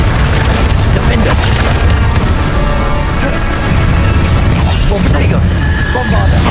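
Repeated Bombarda spell blasts from Hogwarts Legacy boom and crackle through dense, continuous combat noise while a voice keeps calling out spell names throughout.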